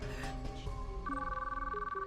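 An unanswered phone call rings in the visual novel game Chaos;Child. A synthetic ringtone melody steps through sustained tones over background music, fairly soft and continuous, with no speech.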